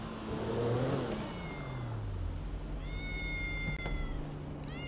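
Grand Theft Auto V cat meows in a short, rising-and-falling cry, then higher tonal calls follow, heard over a low engine drone from the game with no talking.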